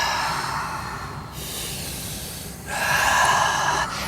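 Audible breathing during a Pilates exercise, a sustained inhale then a stronger, longer exhale through the nose or mouth, close and breathy with no talking.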